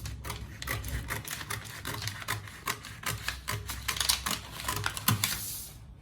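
Scissors cut through organza fabric for a curved godet with ruffles, giving a quiet, close series of rapid crisp snips and rustles with short pauses, no voices.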